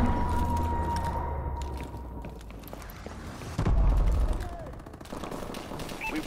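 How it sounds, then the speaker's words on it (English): Explosive missile strikes and bursts of gunfire from the Call of Duty: Advanced Warfare video game, a dense continuous barrage with a heavy low boom near the middle, loud and close throughout. "Enemy missile strikes!"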